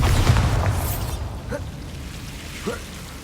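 Bombarda spell explosion in the video game Hogwarts Legacy, a deep booming burst at the start that rumbles and fades over a few seconds, with a couple of small crackling pops afterward.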